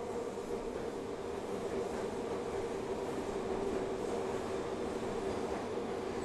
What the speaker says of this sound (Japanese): あ、電車来るんじゃん。